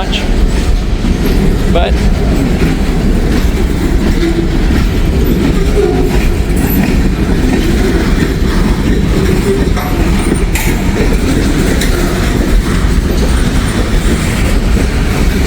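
A heavy freight train with two locomotives passes in Wyoming, producing a loud, steady rumble with rolling wheel clatter throughout and a brief voice over it.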